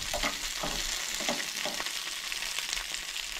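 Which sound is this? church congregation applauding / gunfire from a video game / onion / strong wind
onion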